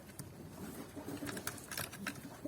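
Soft cooing of adult Turkish fancy pigeons repeats several times against a steady, noisy background hiss, with no talking.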